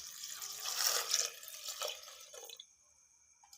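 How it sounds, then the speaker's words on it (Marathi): Water pours from a vessel into a pressure cooker holding dal with turmeric and asafoetida, a close, bubbling splash lasting about two seconds before fading to quiet drips. "आणि पाणी ओतते,"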